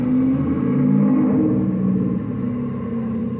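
A loud car passing nearby, a steady low engine rumble with a slight rise and fall as it goes by, no talk over it.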